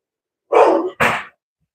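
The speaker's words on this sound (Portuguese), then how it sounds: "desculpa aí o barulho do cachorro" A dog gives two loud, close barks in quick succession, standing alone with no talk around them.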